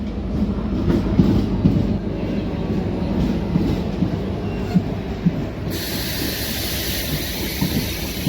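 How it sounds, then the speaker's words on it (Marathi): Parli–Sangli DEMU express train pulls out from platform 1 of an Indian railway station. The steady rumble and clatter of the wheels continues throughout, with a hissing brighter noise joining near the end. "प्लॅटफॉर्म नंबर 1 वरून परळी सांगली डेमो एक्सप्रेस निघालेली आहे"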